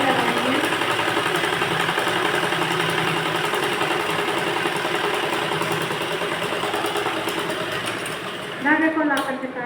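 A sewing machine stitches along both sides of a folded blouse piece in a steady, fast mechanical whir that runs almost the whole time, then stops near the end when a voice briefly speaks.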